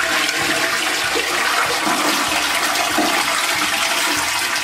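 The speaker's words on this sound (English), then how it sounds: "You're going to have to flush it." A household toilet flushes loudly and steadily, water rushing and swirling through the bowl close to the microphone for the full duration, with no talking over it.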